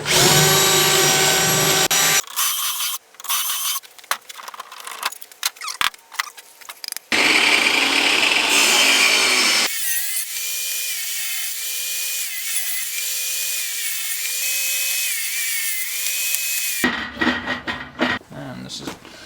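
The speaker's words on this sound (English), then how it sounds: "we're going to drill all of our pocket holes." A power drill whirs in repeated bursts, drilling pocket holes with a Kreg jig into reclaimed lumber, loud and close, with longer sustained drilling runs and brief pauses between holes.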